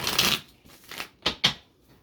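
Tarot cards are riffled and shuffled in a few quick, crisp bursts with short pauses between, close by and fairly loud.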